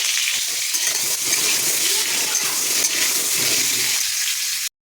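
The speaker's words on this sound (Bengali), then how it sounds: "আলুগুলো কাটা হয়ে গেছে, এবার ভেজে নেব।" Cut potatoes fry in oil in a wok with a little salt and turmeric, a loud, steady, close sizzle and crackle that runs unbroken until it cuts off abruptly.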